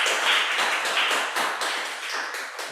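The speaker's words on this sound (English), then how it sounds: "Let's give him applause." A meeting audience breaks into applause, a dense, even patter of many hands clapping close by that holds steady for a few seconds and fades slightly at the end.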